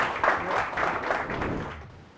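Audience applause greets a trainer being introduced at a real estate training session, a steady wash of many hands clapping at moderate volume that fades off toward the end.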